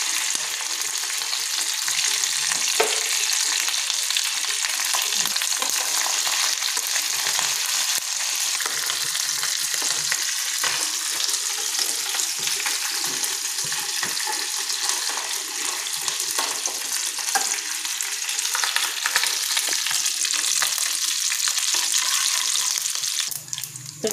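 Curry leaves, dried red chilies and mustard seeds fry in hot oil for a coconut-mint chutney tempering, a loud, dense, continuous sizzle with crackling spits throughout, close up and without talk.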